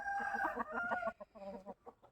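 A young rooster crows with a strained, wavering call and then breaks into short clucks, loud and close, with no talk over it.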